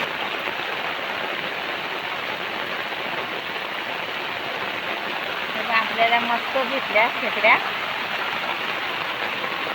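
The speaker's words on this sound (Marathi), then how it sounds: "हे बघा, पाऊस तर एकदम मुसळधार आहे." Heavy monsoon rain pours down beside a flooded river in a steady, dense hiss, with a person speaking briefly over the downpour partway through.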